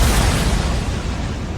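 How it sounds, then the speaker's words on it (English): A single loud, booming explosion erupts at once and then rolls on as a dense, heavy rumble that slowly fades over under two seconds, with no voices. "a loud explosion rang out, as if lightning had struck the ground"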